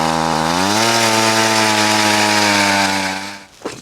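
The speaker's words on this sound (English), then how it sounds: "let's go drill some more holes" A motorized ice auger drilling a hole through ice revs and whines steadily, its engine pitch rising then holding before cutting off.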